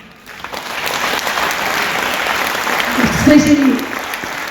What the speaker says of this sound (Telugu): ప్రతి ఒక్కరు చప్పట్లు కొట్టాలి